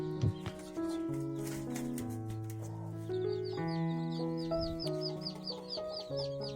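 A local hen clucks near her eggs and newly hatched chicks, a close run of repeated soft clucks with higher chick peeps woven through it.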